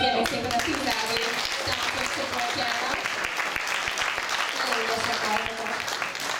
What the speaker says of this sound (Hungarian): akkor még egy nagy tapsot kérlek szépen